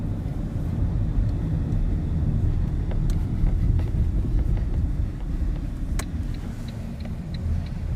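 A Fiat Punto drives along with a steady low rumble of engine and road noise, fairly quiet and continuous, with a few faint clicks.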